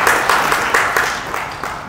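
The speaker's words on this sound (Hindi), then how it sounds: "एक बार जोरदार तालियां।" Audience applause at a business networking talk, a brief burst of dense clapping that stays steady and close for under two seconds.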